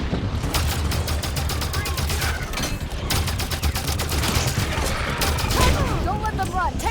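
Rapid gunfire bursts from a Halo 5: Guardians campaign battle crackle in dense volleys, with sharp repeated shots, booms and mechanical clanks layered throughout.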